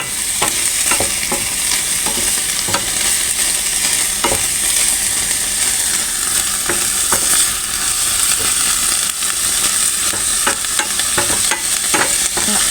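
Pork belly stir-fried over high heat for a Thai curry with pea eggplants, with a loud, steady sizzle and frying hiss that carries on throughout, broken by scattered clicks and scrapes of stirring.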